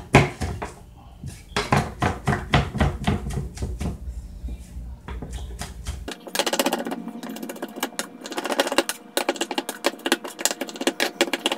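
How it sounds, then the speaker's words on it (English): Rapid knife chopping of ingredients together on a cutting board for a Cambodian prahok dip, quick rhythmic close taps that speed into a dense clatter, with no talk. "I'm just going to start chopping it together so they get into a nice and incorporated."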